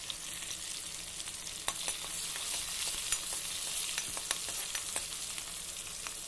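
Chopped green chilies hit a hot pan for Indian-style macaroni, giving a dense, continuous crackling sizzle with sharp pops scattered throughout, close and loud with no talking.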